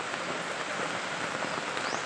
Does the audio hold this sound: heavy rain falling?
yes